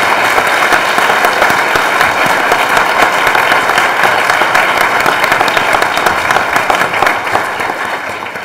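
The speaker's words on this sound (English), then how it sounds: "yes, you can clap." A large audience at a formal event bursts into sustained, loud applause, a thick continuous roar of clapping that holds steady and only eases slightly near the end.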